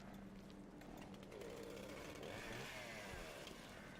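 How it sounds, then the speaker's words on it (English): A chainsaw runs in the Resident Evil: Revelations 2 video game, a faint, continuous buzzing engine drone that shifts in pitch as if revving, heard alone without talk. "Oh, that's a chainsaw. It's not a drill."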